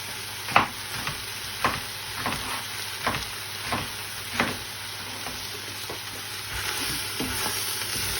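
Beef browns in a frying pan for a batch-cooked casserole, a continuous sizzle broken by about a dozen sharp scraping strokes of stirring at a fairly regular pace, close and with no voices.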